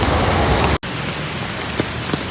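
Floodwater rushes in a dense, loud wash of noise that cuts out abruptly for an instant before resuming steadily, with no voices.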